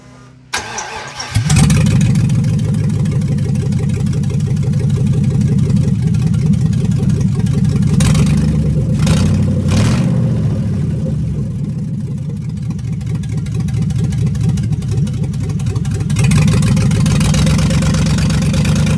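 A 2002 Pontiac Grand Prix engine cranks and catches, then holds a loud, steady mid-pitched roar with brief surges of revving, heard up close and alone for nearly twenty seconds.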